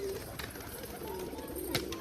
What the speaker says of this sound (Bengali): এই যে দেখো আওয়াজ শুনেছো পায়রা বাজির, এটা হলো মাদিটা।